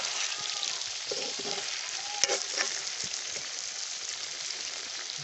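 Broiler chicken sizzles and fries in a hot wok (kerahi) in a home kitchen, a steady crackling hiss with occasional clinks of a stirring utensil against the metal pan, close and continuous.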